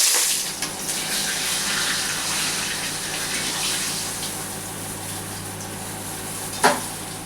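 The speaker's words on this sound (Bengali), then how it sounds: "সর্ষের তেল। মাথাগুলো একটু ভেজে নেব" Fish heads fry in hot mustard oil in a pan, a steady, close hissing sizzle that continues throughout, with a brief clatter near the end.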